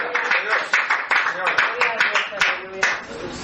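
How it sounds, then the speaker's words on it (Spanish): A church congregation applauds in steady rhythmic clapping, many hands beating together in a fairly loud, continuous stretch with no talk over it. "Denle un aplauso al Señor y ahorita vamos a seguir."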